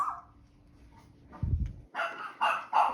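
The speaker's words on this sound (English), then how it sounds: "my dogs are barking" Dogs barking indoors at home, several sharp yaps in quick succession at moderate distance after a low rumbling thump.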